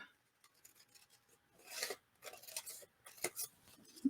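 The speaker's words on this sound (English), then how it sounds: "I use my scissors and trim up." Short bursts of rasping snips and cutting noises, quiet and close, with small handling clicks between them.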